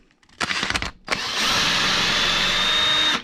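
A power drill backs out 3mm bolts from the front end of a Traxxas UDR, with two short bursts of whirring followed by a longer, steady high-pitched run close by, no talking.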